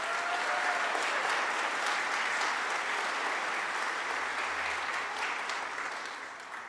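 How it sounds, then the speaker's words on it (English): An audience at a town hall bursts into sustained clapping, a dense, steady wash of many hands that holds strong for several seconds and then begins to taper off, with no voices over it. "A big round of applause there."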